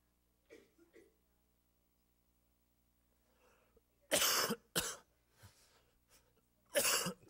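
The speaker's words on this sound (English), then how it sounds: "Sorry for coughing into the video." Several harsh, loud coughs in quick succession from a lecturer with a cold, with a few quieter breathy sounds and faint murmurs between them.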